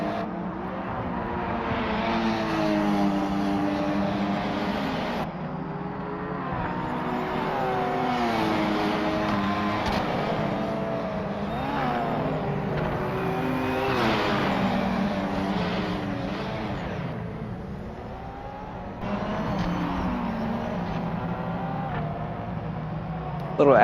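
Race car engines roar steadily in Project Motor Racing, with a Maserati, a BMW and a Viper in the field, a sustained loud drone with shifting pitch as gears change, under a commentator's ongoing talk.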